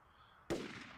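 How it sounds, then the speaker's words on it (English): A single distant gunshot rings out in the zombie survival game Project Zomboid, a sharp crack with a brief decaying tail over quiet ambience. "Gunshot."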